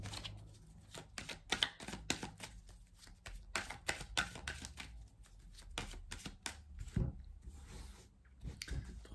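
Persian tarot cards of Madame Indira shuffled by hand in close, quiet bursts of riffling and flicking, repeated through the whole stretch with brief pauses, no talking over it.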